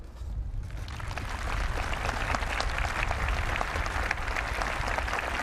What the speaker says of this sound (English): the audience perhaps holding their affection for him with a standing ovation now at the conclusion of his address